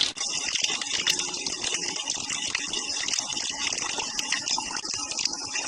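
Water gushes steadily from a drainage pipe in a continuous, loud, broadband rush that stays constant throughout, with no voices over it.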